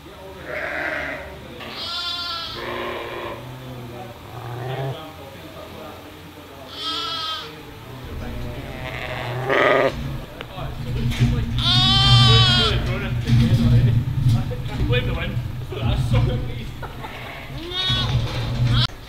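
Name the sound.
sheep bleating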